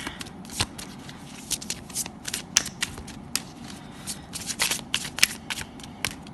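Cards being shuffled for a pick-a-card reading, brisk riffling and snapping flicks in quick irregular bursts, close and crisp, with no voice over it.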